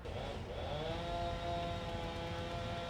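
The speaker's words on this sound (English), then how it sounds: "It's going to take a crew of men, a chainsaw, and a couple of large tow trucks to remove the vehicle." A chainsaw used by a crew removing a vehicle drones steadily at a distance, its engine tone holding even with a slight rise early on, over a constant background rumble.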